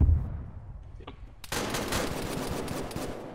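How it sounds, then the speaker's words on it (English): Gunfire in the military video game Arma: a faint quiet moment gives way to a sudden loud burst of rapid automatic shots that keeps rattling on, close and dense. "Firing into the second story of the bunker."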